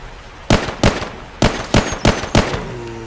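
Gunfire from shooting zombies in the mobile game The Walking Zombie 2: six loud, sharp shots in an uneven rhythm, close and punchy, with no voice over them.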